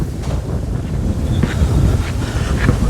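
Strong wind buffeting the microphone in a continuous low rumble at Arkadia beach on a sunless, 17-degree day, with faint surf-like noise beneath and no voices.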